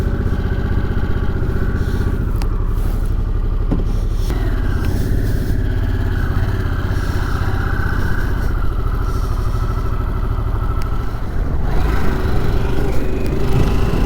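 A Harley Davidson Sportster S 1250 motorcycle engine rumbles steadily and loudly up close, a deep throbbing idle with occasional revs and mechanical clatter as gears are shifted.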